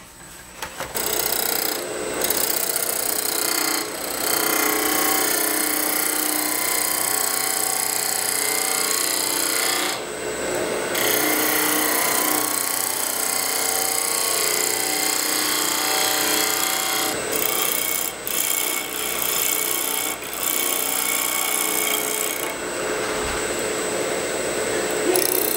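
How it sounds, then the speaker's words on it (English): Spindle gouge cutting wood on a lathe, a steady, loud, continuous scraping whir that holds for the whole stretch. It pauses and shifts in tone briefly a few times as the tool moves along a small turned piece, with no talking. "I put a new sharpen on my spindle gouge, and I'm going to do just a little bit more right in here."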